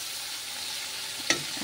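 Masala spices frying in a hot pan give a steady, close hiss of sizzling oil, broken once by a brief sharp scrape or clink near the end.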